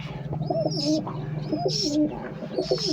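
Pigeons coo in repeated soft, throaty phrases, close by at a pigeon coop, with a few higher chirps from other birds mixed in.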